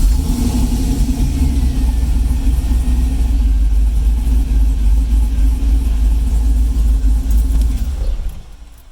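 A turbocharged Chevrolet IROC-Z Camaro engine runs with a steady, loud, deep idling rumble close by, holding even for several seconds before dying away quickly at the end.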